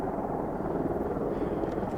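Helicopter flying overhead, a steady low rotor rumble with dense chopping texture, fairly loud and continuous.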